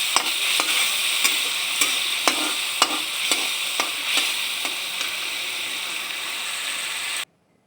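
A spoon stirs green chillies and a spice mixture frying in a pan, sharp scraping clicks falling at an irregular pace over a constant loud sizzle that cuts off abruptly.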